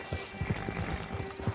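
Horse hooves clip-clop in Red Dead Online, a steady, soft run of evenly spaced thuds at moderate distance with a faint ambient hum beneath.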